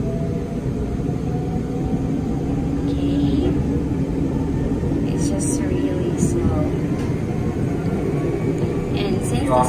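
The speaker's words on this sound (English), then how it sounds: "the speed of this train is not really fast because this is a local train" Steady rumble and rattle inside a slow local train heading toward Nagoya, a continuous close drone with light clicks and squeaks over the top and no clear speech.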